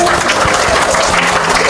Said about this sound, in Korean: 부녀 상봉에 축하의 박수를 보내는 사람들